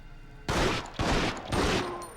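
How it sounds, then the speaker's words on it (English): Gunfire at a zombie in Resident Evil Outbreak: three loud, evenly spaced blasts about half a second apart, each ringing briefly before the next, with no talking. "Shoot that zombie in the head."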